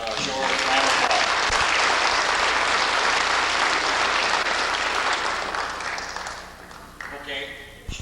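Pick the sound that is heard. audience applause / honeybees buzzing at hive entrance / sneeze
audience applause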